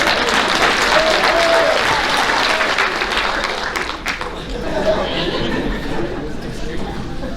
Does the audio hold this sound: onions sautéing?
no